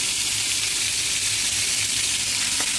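Chicken and sardine fish fry in hot oil with a loud, continuous sizzle that holds steady throughout, close up and with no one talking.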